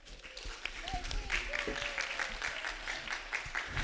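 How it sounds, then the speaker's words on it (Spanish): A church congregation applauds briefly, quiet scattered clapping heard at a distance beneath faint voices. "un aplauso"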